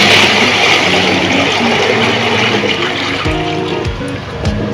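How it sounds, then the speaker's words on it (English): Twenty liters of water pour steadily into a mixing bowl in a loud, continuous rushing gush that fills the whole few seconds, with faint knocks as the flow tapers near the end. "I'm going to pour these 20 liters of water into the mixing bowl right away."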